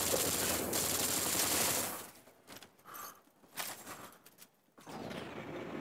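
Rapid bursts of automatic gunfire in the video game N.O.V.A., dense and loud at first, then sparser volleys with mechanical clicks and game effects, heard up close without talking.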